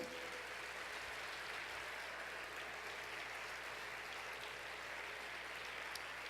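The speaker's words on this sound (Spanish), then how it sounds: "Denle el aplauso al Señor, hermano, Él lo merece." A church congregation applauds steadily and evenly for several seconds, a dense wash of clapping that sounds somewhat distant and soft, with no voices standing out.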